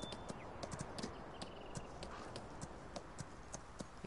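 A horse gallops in a video game, its hooves clip-clopping in a quick, repeating rhythm over a soft ambient bed, close and steady throughout with no talk.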